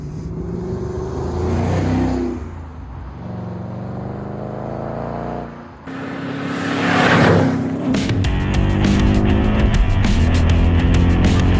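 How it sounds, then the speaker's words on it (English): A supercharged 2016 Ford Mustang drives along a coastal back road, its engine note rising and falling through gear changes, then revving harder with rapid pulsing bursts toward the end, loud and close without any talk. "We thought that was a great excuse to catch up with Errol and take the car for a wee drive out to the coast"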